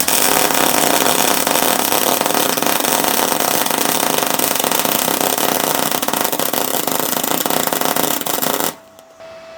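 An R-Tech MIG 181 welder laying a weld at full power with the wire feed turned down slightly, a steady loud crackling hiss that runs continuously for several seconds, then cuts off abruptly.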